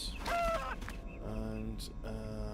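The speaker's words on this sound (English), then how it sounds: "I can't shoot this stupid bird making its stupid noises" A bird squawks in the Star Trek: A Final Unity video game, with a few shrill, harmonic calls and a brief rattly cluck up front, followed by synthetic tonal game sounds.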